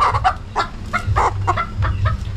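Pet chickens, a rooster and a hen raised from chicks, cluck in a run of short, close, fairly loud bursts with uneven spacing, heard alone without talk.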